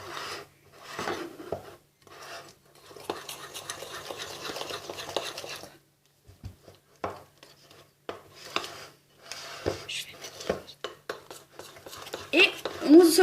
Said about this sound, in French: pendant que Lola est en train de mélanger